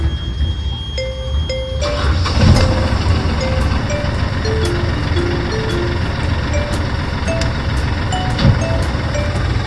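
Engine on a Leopard 43 catamaran, just after a gearbox rebuild, turns over and settles into a steady low rumble about two seconds in. Intermittent electronic beeps sound above it, and no one speaks.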